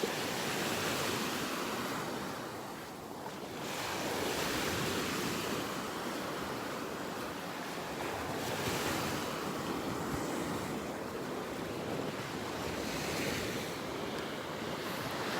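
Waves and wind on a beach in North Naples, Florida, with a continuous wash of surf and gusting wind across the microphone, steady and fairly close, with no voices.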